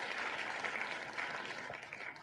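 A canned crowd cheering and clapping effect playing during a contest prize drawing, a steady, bright wash of applause and cheers lasting a couple of seconds, moderately quiet, with no talking.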